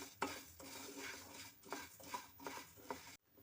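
Coriander seeds dry roasting in a pan give a soft rattle and scrape, stirred in several distinct sweeps with a spoon knocking metal, faint and close, then a sudden stop.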